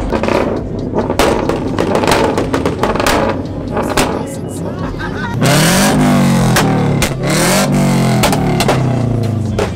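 Cars at an evening car meet rev loudly close by, with repeated engine roars, rising and falling revs and popping exhaust bangs, while people talk in the background.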